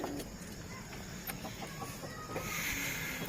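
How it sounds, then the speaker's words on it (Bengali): A pigeon chick calls from close by, soft repeated chirping clucks that come in short bursts, faint against quiet room noise. "আর বাচ্চা চলে এসছে, কোঁকা করছে"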